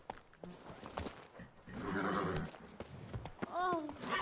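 Geralt's horse Roach in The Witcher 3 video game, hooves clip-clopping with a whinny near the end, while someone talks to the horse over it.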